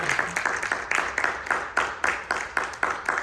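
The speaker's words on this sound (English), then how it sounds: "Round of applause." A small convention panel audience applauds, a thin, close patter of clapping with individual claps standing out in a fairly even rhythm, fairly quiet throughout.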